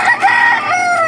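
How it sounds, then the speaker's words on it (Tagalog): A rooster crows close by and loud, one sustained, strained call with a wavering pitch that fills the whole moment at the start of a morning. "Kigising sa'yo, tilaok ng manok."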